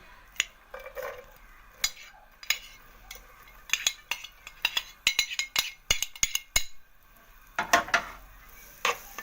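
Onion goes into a cooking pot and is stirred, producing a series of sharp metallic clinks and scrapes from a utensil against the pot over a quiet sizzle, with bursts of rapid knocks toward the end.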